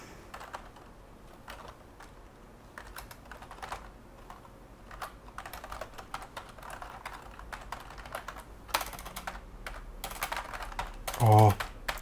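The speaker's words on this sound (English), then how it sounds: "Sun membrane keyboard." Typing on a Sun membrane computer keyboard: soft, muffled keystrokes in irregular bursts and pauses, close but fairly quiet, with a louder knock near the end.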